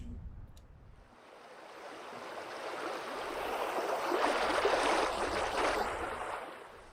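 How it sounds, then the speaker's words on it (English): Steady rushing water of a waterfall in the video game Vintage Story, a broad hiss that swells in the middle and eases toward the end, with no voices. "Oh man, look at this waterfall."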